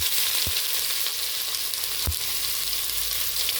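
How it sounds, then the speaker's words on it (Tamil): Onions frying in hot oil in a kuzhambu pot, a loud continuous close sizzle with a couple of sharp stir knocks against the pot, no talk. "குழம்பு கண்டியில் இது வெங்காயம் போட்டுக்கலாம்."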